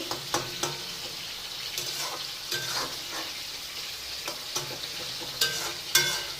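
A spice paste for an ash gourd dish fries in a pan with a constant sizzle. Repeated scraping strokes from stirring come at an irregular, fairly quick rhythm, with no talk.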